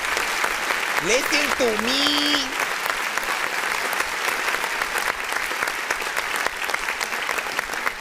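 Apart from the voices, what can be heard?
applause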